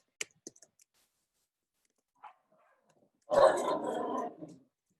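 A few quiet clicks, then a single short burst of a dog growling and barking, close and moderately loud, followed by silence.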